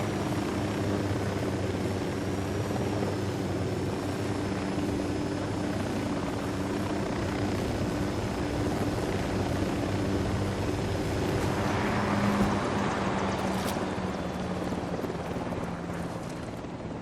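Helicopter in Ghost Recon Wildlands flying steadily throughout, a loud continuous rotor drone with engine hum that holds level, no talk over it.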